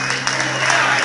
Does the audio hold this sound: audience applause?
yes